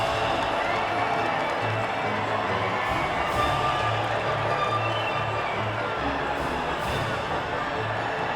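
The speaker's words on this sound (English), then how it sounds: "the reaction from the crowd must be incredibly uplifting for them" Crowd cheering and applauding at the podium after the British Grand Prix in the racing game F1 2019, a steady wash of distant, mixed crowd noise that holds at an even level throughout.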